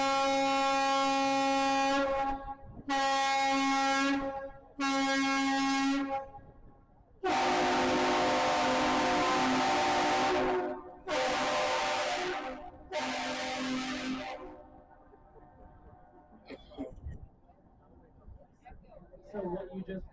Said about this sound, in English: we are going to sound the ship's horn for a captain's salute to our bridge operator.